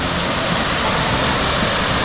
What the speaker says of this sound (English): there's another little waterfall